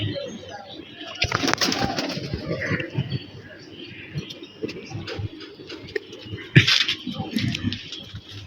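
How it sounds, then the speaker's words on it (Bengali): Old-breed pigeons coo softly and repeatedly in a loft, with occasional louder flutters and clicks, and faint voices in the background. "পুরান জাতের কবুতর"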